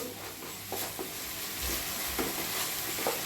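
Finely chopped tomato fries in a pan, giving a soft, even sizzle. A few scattered stirring scrapes cut through it, and no voices are heard.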